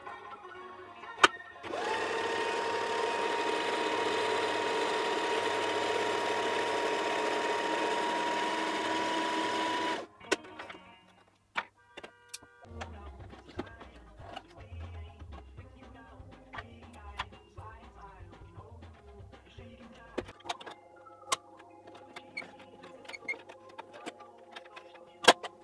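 A sewing machine winds a bobbin under its needle, a loud steady motor whir lasting several seconds that stops abruptly, followed by faint clicks, rustling and handling noises.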